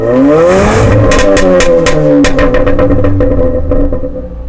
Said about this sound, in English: Well, that was the exhaust of a Jaguar XE.